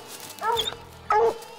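Hunting dogs at a den tree while out for raccoons on public land, giving two sharp, high yips close by, separated by a short pause.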